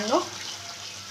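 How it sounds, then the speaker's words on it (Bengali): Water is poured into spice masala frying in a pan for chhena kofta, giving a short splash and a hissing sizzle that settles into a steady soft fry. "জল দিলাম।"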